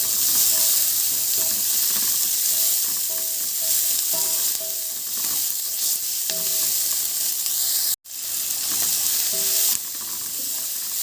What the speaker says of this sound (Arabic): انا حطيت هنا معلقه زبده وحطيت معاها نص معلقه ملح، وهنزل بالبصل بتاعي بالشكل ده ياخد بس